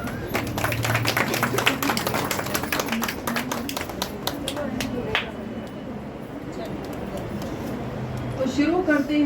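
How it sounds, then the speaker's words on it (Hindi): A crowd claps for a member's birthday at a Brahma Kumaris Christmas and New Year gathering in Kalwa, with steady scattered applause running under ongoing talk and a few sharper claps near the start. "आज विजया बहन का का बर्थडे भी है, जोरदार तालियां"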